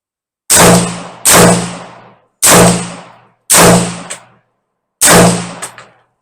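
Five loud, sharp AR rifle shots ring out outdoors at a range while testing a Global Ordnance magazine, spaced about a second apart, each with a decaying echo and some with a faint metallic clink after.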